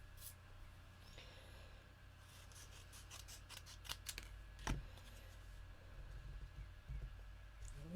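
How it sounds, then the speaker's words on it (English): Scissors cut through paper for a craft kit, producing quiet crisp snipping strokes in a short cluster mid-clip with soft rustling between, close and faint, with no voices. "So I'm going to actually cut this one up the centre."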